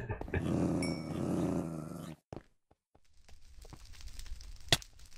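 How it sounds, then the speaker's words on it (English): A dog in a video game growls loudly and continuously for about two seconds and then stops. Faint game noises and a sharp click follow. "Go away, dog."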